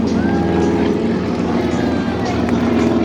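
A T-6 Texan propeller airplane passes down the flight line at an airshow, making a loud, steady, droning roar, with an announcer's voice faintly over it.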